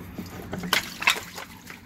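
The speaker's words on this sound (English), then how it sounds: "open it up and let the water out" Water draining and splashing out of an opened pool filter housing (Pleatco CL 460 cartridge) outdoors, an uneven trickle and slosh with a few louder splatters.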